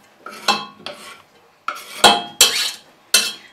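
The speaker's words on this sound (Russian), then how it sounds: "Добавляем капусту." Chopped cabbage tipped into a pan of onions and stirred for a Russian coulibiac filling, giving a run of sharp scraping and clattering bursts of utensil against pan, close and fairly loud, with no talking.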